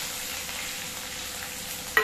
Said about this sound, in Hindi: अब मैं डालूंगी इसमें जीरा, फिर डालूंगी ये प्याज